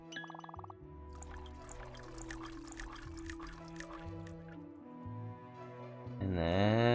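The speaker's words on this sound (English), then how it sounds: "Gonna go ahead and drink some water here." Water pours steadily into a drinking vessel for several seconds at close range, a trickling liquid sound under game music, rising in pitch as the container fills near the end.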